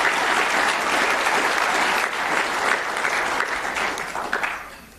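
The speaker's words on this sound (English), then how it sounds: "please give a big round of applause to all Gatesville ISD" Audience applause fills a football award ceremony, loud and sustained across the whole stretch, with no talk, easing slightly near the end.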